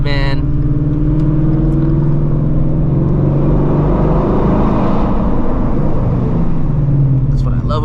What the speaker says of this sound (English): I still like the way this car sounds with this catback.